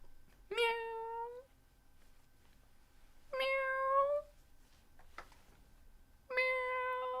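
A man imitates a cat with his voice, giving three drawn-out, whiny meows spaced a few seconds apart, loud and close, with near silence between them.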